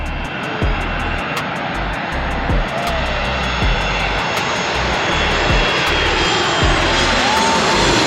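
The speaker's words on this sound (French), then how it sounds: "Un autre avion en approche." A large jet airliner's engines roar steadily and loud throughout as it approaches to land at St. Martin, a broad continuous rumble with a faint high whine above it.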